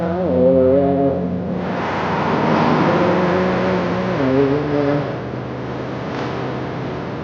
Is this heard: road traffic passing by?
yes